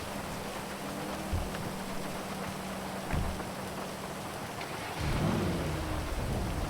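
Heavy rain pours steadily in GTA V (FiveM), a constant hissing downpour broken by low rumbles of thunder, the loudest roll swelling near the end; no one speaks over it.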